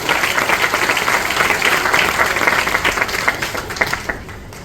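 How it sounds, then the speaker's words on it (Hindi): Enthusiastic audience applause at a direct selling business seminar, a thick wash of clapping from a crowd that holds steady and then tapers off at the close. "एक जोरदार तालियां सर्टिफिकेशन के लिए"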